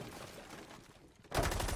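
Pre-fire gunshots burst in Rainbow Six Siege, a rapid string of shots that starts faintly and then jumps to a loud, dense volley for the final half second, with no clear talk over it.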